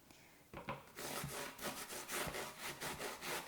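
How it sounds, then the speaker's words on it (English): Zucchini is shredded on a sharp metal box grater in a home kitchen, with rapid, rhythmic rasping strokes close by, starting after a brief pause and continuing steadily. No talk is heard. "make sure your fingers stay clear of where the box grating is going on"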